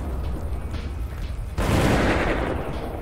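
Gunfire in the zombie survival game Dead Age, a burst of shots firing off as a headshot lands, a sudden loud blast of noise after a quieter stretch of ambient game sound.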